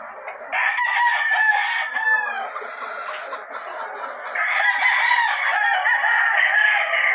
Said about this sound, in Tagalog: Dito po tayo sa mga pullets naman ni Dante, ni Chambalain.